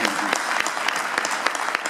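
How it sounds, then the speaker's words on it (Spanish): Audience applause at a Le Parc presentation of the project Plateados por la Luna, a dense close burst of clapping that stays steady and fairly loud throughout. "Gracias Luis, un aplauso para él."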